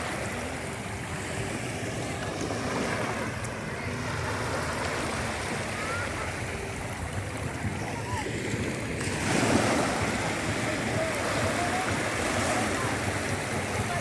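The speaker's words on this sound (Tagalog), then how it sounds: "Yan ang alon." Continuous wash of sea waves rolling in at Nasugbu beach, Batangas, with steady wind and surf noise and a slightly louder swell breaking near the end.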